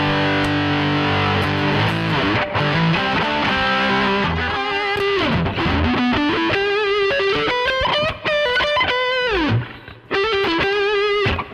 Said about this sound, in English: Let's get some distortion. Let's just go max. The Boss DS1.